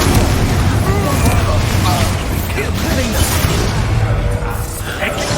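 Fire and explosion spells are cast in the video game Hogwarts Legacy, with loud, repeated booms, bursts and roaring blasts filling the scene while voices talk over the combat.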